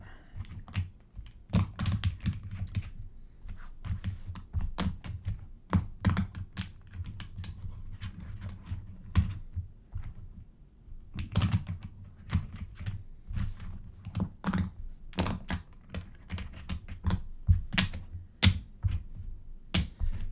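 Board game cards from Cloudspire being shuffled and cut by hand during a solo game, a run of sharp riffling clicks and snaps in uneven bursts, close up and alone without talk.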